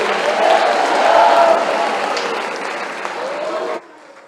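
A church congregation applauds in a dense, sustained wave of clapping that swells and then cuts off abruptly near the end, with voices mixed into the crowd noise.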